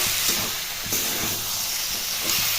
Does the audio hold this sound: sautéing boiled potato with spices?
yes